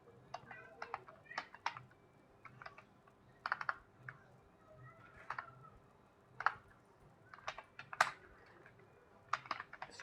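Keys clatter on a computer keyboard while text is typed into an MS Word document, quiet irregular bursts of clicks spread across ten seconds with faint background murmur.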